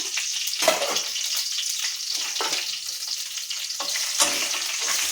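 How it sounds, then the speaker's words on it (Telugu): Green chilies fry in hot oil with cumin seeds and onion in a pan, giving a steady close sizzle. A few stirring scrapes rise above it, and no one speaks. "పచ్చిమిరపకాయలు కొంచెం వేయించుకోవాలి"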